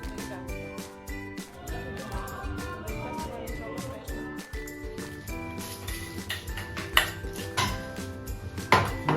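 Dishes and cutlery clink at a breakfast table on a cloudy morning, with irregular light clatters and chinks over a steady bed of background music and faint talk throughout.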